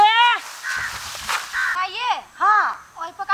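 A crow caws in a rural farming village, several harsh rising-and-falling calls coming close and loud in uneven bursts, with some background noise in between.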